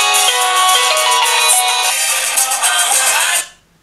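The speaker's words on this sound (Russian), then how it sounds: "идет вызов на планшет и одновременно идет вызов на Elari Nanophone" Incoming-call ringtone sounding at once on a tablet and an Elari NanoPhone, a loud, bright electronic melody that plays steadily for about three and a half seconds, then stops abruptly.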